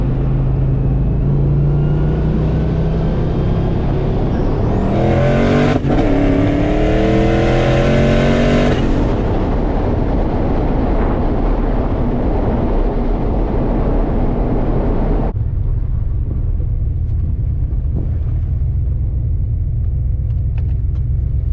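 A turbocharged car engine roars up through the revs under boost, doing a no-lift shift, pitch climbing steadily under heavy load, then drops to a lower droning rumble as it cruises on.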